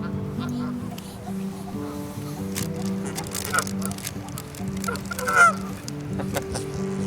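Geese and ducks honk repeatedly on open water on a chilly day, a near, overlapping run of nasal calls with one louder burst, while faint voices murmur underneath.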